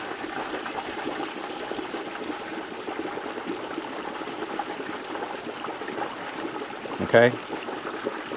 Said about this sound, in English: You want to slowly lower the turkey inside of the grease.